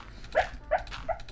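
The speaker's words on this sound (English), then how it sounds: "She's barking in her sleep." A sleeping female dog on a farm lets out three soft, muffled barks in quick succession, close by and fairly quiet, with no other noise around them.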